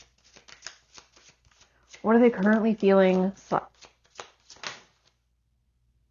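A deck of tarot cards is shuffled by hand in quick papery riffles and taps, close and crisp, while someone speaks over part of it.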